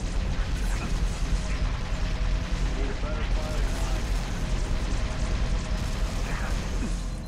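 Plasma turret fire in Halo: Reach, a steady dense stream of rapid energy shots and rumbling impacts running continuously, fairly loud, amid background battle noise.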